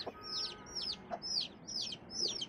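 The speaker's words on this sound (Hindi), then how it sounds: "तोता नस्ल की मुर्गी, तोताइया मुर्गी है ये।" A parrot-breed hen gives a run of five quick, rhythmic clucking calls at close range, fairly soft, with faint background noise and no talk.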